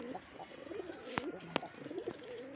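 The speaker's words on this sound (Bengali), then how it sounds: "এই যে গররা কবুতরটা" A pigeon at home, one of a breeding pair, coos softly and repeatedly at close range, with a few sharp knocks breaking through the low murmuring.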